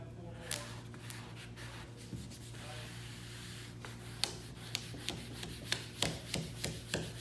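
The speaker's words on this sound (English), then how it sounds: "get ready to start pushing the squeegee back towards the spoiler of the car" Plastic squeegee pressed over vinyl tailband decal on a 2015+ Dodge Charger near the rear spoiler, giving soft rubbing scrapes that turn into short, sharper strokes, close and quiet over a steady low hum.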